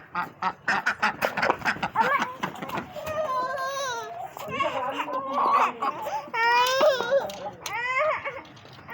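Ducks quack repeatedly and loudly close by at feeding time among chickens, a busy overlapping stream of nasal calls with some whining cries mixed in.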